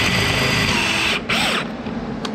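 A power drill bores through 304 stainless steel with a close, steady whine that cuts off abruptly and spins down once the bit breaks through.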